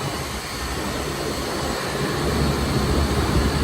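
A refrigerant recovery machine draws refrigerant out of a reach-in cooler system, giving a loud, steady broadband roar with a low rumble that holds evenly throughout, close by, with no talk.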